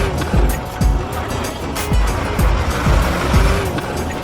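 Toy race cars chase each other closely, their motors whining with repeated rising and falling swooshes as they zip past, loud and near.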